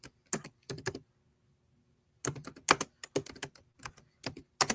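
Fingers typing on a computer keyboard in quick clustered bursts of crisp clicks, close and clear, with a brief pause before the keystrokes resume.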